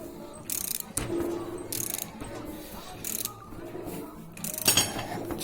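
Metal clicks and scraping of a nut being gradually threaded onto a stud with washers and spacers during a wheel bearing replacement on a 1994 Mitsubishi Galant, close up, with a few louder rattling bursts and no speech.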